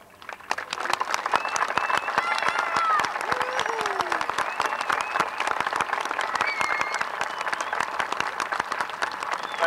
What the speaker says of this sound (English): Honored graduates, please stand for a well-deserved round of applause.